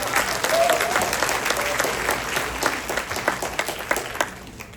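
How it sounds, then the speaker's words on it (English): Audience members at a gratitude award ceremony applaud, building into dense clapping that thins toward the end into scattered individual claps, with faint voices underneath. "Let's give another round of applause for Mr. Duong."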